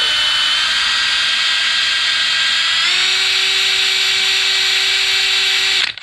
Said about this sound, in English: So I'm just going to drill a hole again, just like this.